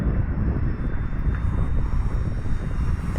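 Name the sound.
E-flite Commander RC plane motor cruising in flight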